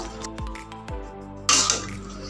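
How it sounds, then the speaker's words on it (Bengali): Hot spice tempering poured into a potato and ash gourd curry, giving a sudden loud sizzling hiss after a couple of soft knocks, close by. "এখন আমি ফোড়নটা ঢেলে দিব, ভালো করে মিশিয়ে নিব"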